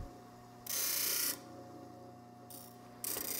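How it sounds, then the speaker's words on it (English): A hand plane iron has its bevel ground on a grinding wheel, with two loud, steady bursts of broadband grinding, each about a second long, over a constant machine hum. There is no talk. "focus on grinding the thicker areas until the blunt edge is even"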